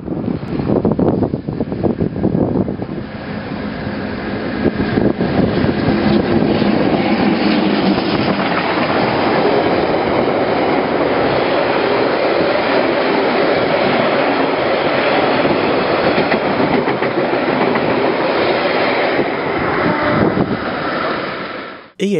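An EF-class electric locomotive hauling a train near Taihape roars steadily and loudly for the whole stretch, with a broad rumble, rattling wagons and wind noise, and no voices.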